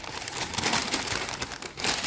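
Sandwich paper crinkles and rustles as it is handled up close for mending a torn Roland monitor speaker cone, a steady crackling texture over about two seconds with no talking.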